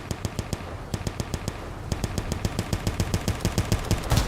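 Rapid bursts of automatic fire from the MF Hyper Breeder Alpha, a Gun Runners DLC energy weapon in a video game, crack out in a steady fast rhythm that tightens toward the end, loud and close with no talking.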